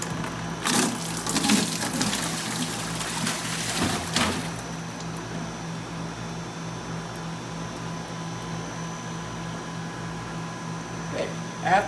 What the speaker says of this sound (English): you're going to want to dump the water as soon as you get it off the housing itself